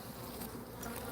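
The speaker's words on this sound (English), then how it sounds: "this is a much different box of bees than the other one" A colony of honeybees in an apiary hive box gives a dense, continuous buzz, close and even, with no voices over it.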